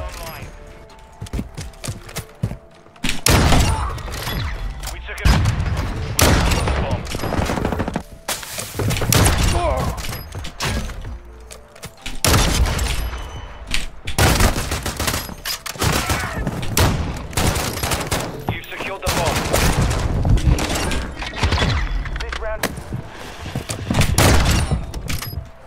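Repeated shotgun blasts ring out in a first-person shooter game, loud and clustered in bursts of heavy thumps throughout, with a voice talking over the gunfire and game noise.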